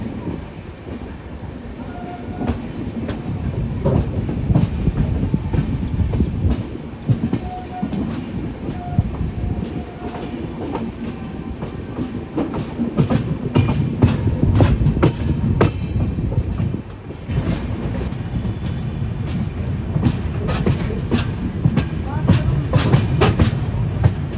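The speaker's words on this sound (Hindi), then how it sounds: "तो भाई सुबह सुबह का टाइम है, ट्रेन निकली है।" The Paschim Deluxe superfast express running between Amritsar and Delhi, heard from inside a 2nd AC coach: a loud, continuous rumble with repeated rail clatter, and a voice speaks at times.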